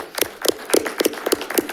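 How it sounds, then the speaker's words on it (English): Brief scattered clapping from a small audience at a school district board meeting, about eight or nine separate sharp claps over under two seconds, fairly close and without talk. "Let's give her a round of applause"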